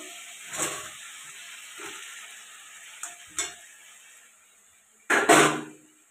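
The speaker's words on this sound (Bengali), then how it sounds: "এবার আমি এর মধ্যে দিয়ে দেবো কচু আর আলুটা, ভেজে রাখা কচু আলুটা দিয়ে দেবো।" Fried taro and potato pieces tumble into a pan of spiced masala for a Bengali taro and egg curry, giving a few short sizzles and stirring scrapes spread out over several seconds, then a louder, longer sizzling burst near the end.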